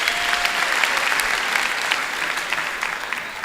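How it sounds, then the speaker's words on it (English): Audience applauding at a university graduation ceremony, dense steady clapping from a large crowd, loud and sustained for the whole stretch with no talking. "Can we also give a big round of applause?"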